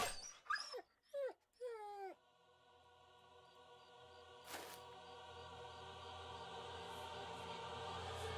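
In the Battle Brothers video game, a dog gives three short growling, whimpering yelps in quick succession, fairly close. A steady hum and faint game sounds fill the rest.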